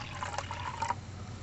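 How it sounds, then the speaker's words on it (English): Water trickles and pours into a tin cup from a tin can cook set outdoors, a short, thin liquid stream with a slight rising ring as it fills, close and fairly quiet. "I'm going to put some water in my tin cup here"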